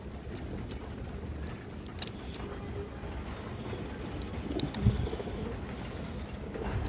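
Pigeons coo in a low, continuous murmur from a flock of fancy breeds such as silver and khaki birds, with a few sharper clicks and flutters over steady background noise.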